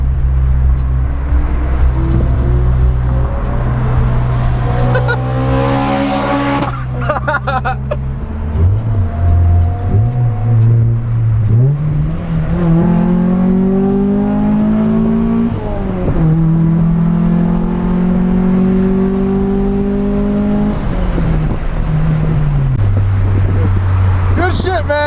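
A Honda Prelude engine, running again after a crank position sensor replacement, idles loudly up close and then revs repeatedly, its pitch climbing and dropping through several throttle blips before settling back to a low idle.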